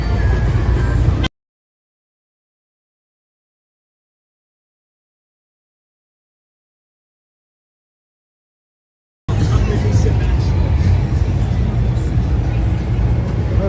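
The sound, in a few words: heavy street traffic on 6th Avenue, New York City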